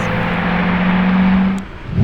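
A V10-engined car revving loudly nearby, a strong steady engine tone that holds then drops off before a fresh surge at the end, with no talking.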